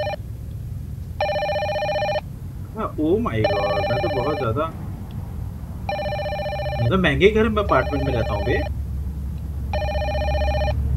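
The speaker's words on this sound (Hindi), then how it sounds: "फोन आ रहा है" A telephone rings inside the indie horror game A Strange Microwave, electronic trilling bursts repeating about four times at a steady pace, while someone speaks excitedly between and over the rings.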